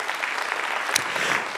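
Church congregation applauding during a sermon, a steady wash of clapping from many hands filling the room, moderately loud and sustained throughout.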